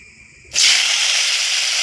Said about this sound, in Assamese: এতিয়া ইয়াত দিম মই সুদা তেলখিনিত দিম কাটি লোৱা পাচলিখিনি, স্কোৱাচ আৰু বিলাহী।